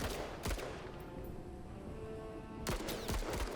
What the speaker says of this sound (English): It's a mortar team.